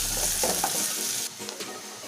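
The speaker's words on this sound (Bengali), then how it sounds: "ভালো করে নাড়াচাড়া করে নিয়েছি পেঁয়াজ সব কিছু মশলা।" Onions with bay leaf, cinnamon and cardamom frying in a pan for Sonali chicken curry, loud close sizzling and stirring that drops off abruptly halfway, leaving a quieter hiss.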